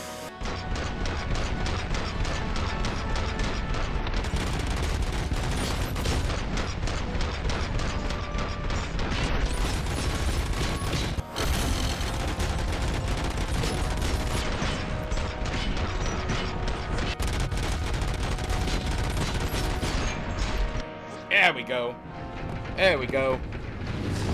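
Gunfire and heavy mechanical clatter from the video game RoboCop: Rogue City, a dense, loud, continuous barrage with crashes and metallic ratcheting that fades into sparse scattered hits near the end.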